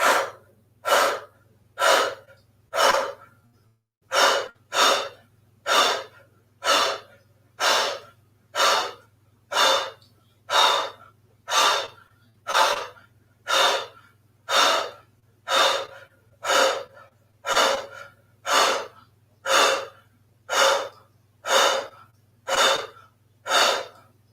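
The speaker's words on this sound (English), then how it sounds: "let's do a round of Kalabate fire breath. So inhale nose." Rapid Kapalabhati fire breath during a restorative yoga class: about twenty-six sharp, forceful nasal exhalations in a steady, even rhythm, close and loud, with a brief pause near the start and a low hum running underneath.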